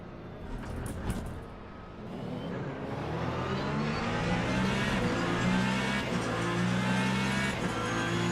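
A Ferrari LMGT3 race car engine in the racing game Le Mans Ultimate roars steadily and climbs in pitch as it accelerates, sustained and loud with no talk over it.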